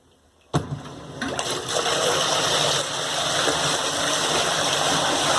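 A pump on a homemade mini highbanker kicks on abruptly and runs steadily, with loud, continuous rushing water flowing close by.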